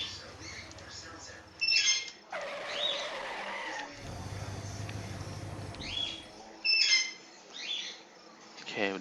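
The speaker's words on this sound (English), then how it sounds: "the birds are indeed annoying. I know that. They're squawking like fucking mad." Birds squawking loudly and repeatedly in the Deadly Premonition Director's Cut video game, near a gas station, with sharp shrill calls in several bursts over rumbling game ambience.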